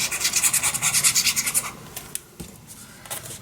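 Glue is burnished down onto a paper page of a handmade wedding mini album with a quick series of close rhythmic rubbing strokes, then a few slower, softer scrapes.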